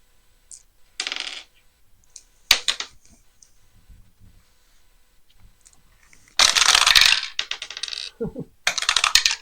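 Dice rolled during a tabletop football game, a 1980 Rams versus Lions matchup, clattering in several loud bursts, with a long dense rattle midway and a final shake at the end.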